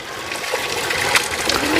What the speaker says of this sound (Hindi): ये देखो अभी भी इसमें पूरा पानी आ रहा है